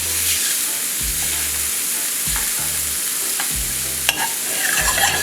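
Barbacoa frying in a non-stick pan, a loud continuous sizzle with repeated scraping strokes as the meat is broken up, close and without talk.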